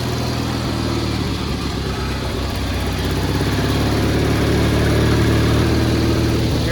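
An old, long-abandoned Cub Cadet lawn tractor engine, running with a misfire after sitting for years, drones loudly and steadily throughout at a fairly even idle, close to the microphone and with no voices.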